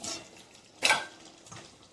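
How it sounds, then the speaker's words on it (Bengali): A metal kadai is set down on a stove during home cooking of potol chingri, a single short clatter standing out from quiet kitchen background with a faint fainter knock after. "এখানে আমি আবার কড়াই বসিয়ে দিয়েছি।"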